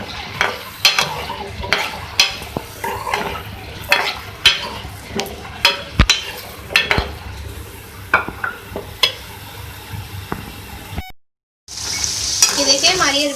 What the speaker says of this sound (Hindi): ये देखिए हमारी अरवियाँ जो है फ्राई हो रही हैं